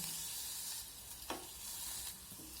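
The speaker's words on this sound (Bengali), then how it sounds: "এখন রসুন আর কাঁচা লঙ্কাটা ভেজে নিতে হবে যতক্ষণ না পর্যন্ত এর কাঁচা গন্ধটা চলে যাচ্ছে।" Garlic and green chilli fry in a wok, a soft, continuous sizzle broken by one brief stirring scrape midway, with no one speaking.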